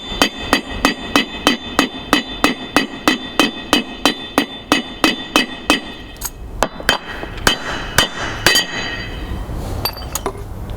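A steel hammer taps a trailer wheel bearing race into its hub, about twenty quick, even, ringing metallic strikes in a steady rhythm, then slower, sparser blows toward the end.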